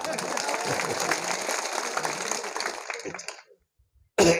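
A crowd at an outdoor political speech about road conditions claps loudly and steadily for about three seconds, fading out and then going quiet, with a brief burst of noise returning at the very end.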